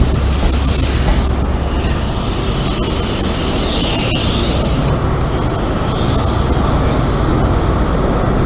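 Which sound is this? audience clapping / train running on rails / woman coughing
train running on rails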